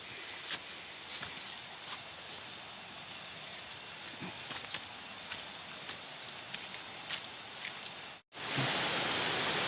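Waterfall at the fourth tier of Khao Sip Ha Chan in Chanthaburi, a steady, even rush of falling water heard close and alone, with a brief dropout near the end.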